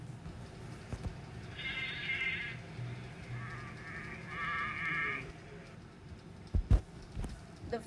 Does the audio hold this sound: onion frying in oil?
no